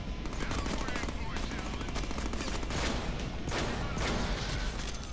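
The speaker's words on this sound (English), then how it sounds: "This is a dual shotgun" Dual shotguns blasting in the Deadpool video game, a dense, continuous barrage of loud close gunfire with a voice talking underneath.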